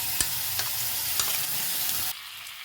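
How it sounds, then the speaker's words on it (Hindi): Cumin and mixed spices sizzle in oil in a pan over a low flame, a steady frying hiss punctuated by a few soft stirring clicks, close up and without voices, ending abruptly. "मसाले को हम लो फ्लेम पर अच्छे से भून लेंगे।"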